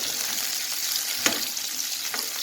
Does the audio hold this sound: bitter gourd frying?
yes